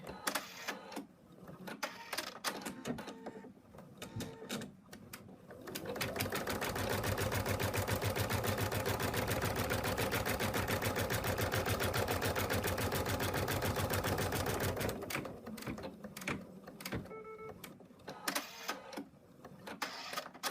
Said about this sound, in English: put the hoop in the machine, and the first stitch out for the back is a placement line